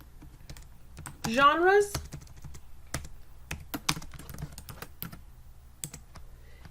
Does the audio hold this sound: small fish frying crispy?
no